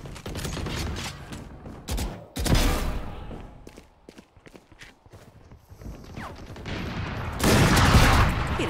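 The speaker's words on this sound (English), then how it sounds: "They're both shooting me." Gunfire in the video game Valorant comes as repeated close bursts, with loud volleys separated by quieter pauses and some faint clicks and steps between them.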